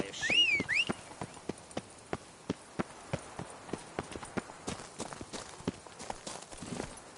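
Roach, a horse in The Witcher 3 video game, galloping with an even, rapid beat of hooves throughout, faint in the mix, with a brief whistle at the start.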